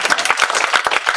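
Church congregation clapping together during a sermon, a dense burst of many hands in fast irregular rhythm, loud and close, with no talking over it.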